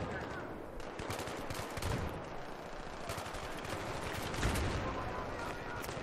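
Sniper gunfire in the video game Battlefield 3, heard amid dense, continuous battle noise with a rumbling, crackling wash and a couple of louder bursts rising out of it.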